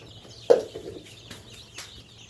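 Brahma chickens cluck in short, scattered calls close by on a farm, with one sharper note near the start and quieter clucks after over a low background.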